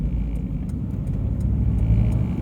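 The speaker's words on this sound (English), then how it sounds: "I'm just going to enjoy driving an old car" An old Mk1 Ford Mondeo rolls along the road with a steady low engine rumble and road noise heard from inside, continuous and moderately loud with faint ticks above, no talk.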